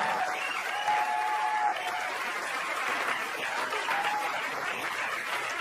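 A stand-up comedy audience applauds steadily as a comedian is introduced, a continuous wash of clapping with faint cheers underneath, moderately distant.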